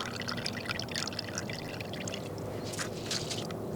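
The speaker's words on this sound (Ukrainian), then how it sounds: "І заливаю, як і говорив вже, міксбум." Mix bomb liquid attractant poured onto carp fishing groundbait at a wild lake: a soft, continuous splashing pour with light wet trickling, close and fairly quiet, no talking.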